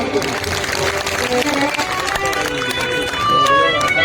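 Loud crowd applause at a live stage event where a man ties a turban in eight seconds, with cheering and voices mixed into dense, steady clapping that swells toward the end.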